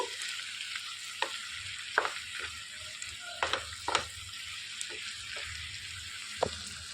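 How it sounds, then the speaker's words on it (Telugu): Bitter gourd and tomato curry being stirred in a pan after salt goes in, giving a soft steady sizzle broken by a few sharp scrapes and clacks of the spoon against the pan. "రుచికి సరిపడా ఉప్పు వేసేసుకోవాలి మొత్తం కలిసేలాగా తిప్పేసుకోవాలండి"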